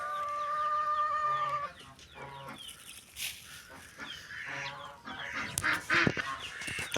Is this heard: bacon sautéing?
no